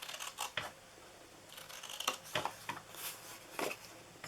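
Scissors snip through paper for a gift box, giving a run of short, crisp cutting strokes with irregular gaps, close and fairly quiet, with no voices.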